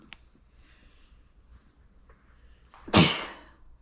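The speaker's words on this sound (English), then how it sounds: "I cannot quit sneezing today." A single sharp sneeze bursts out loud and close after a few seconds of quiet room hiss and faint shuffling.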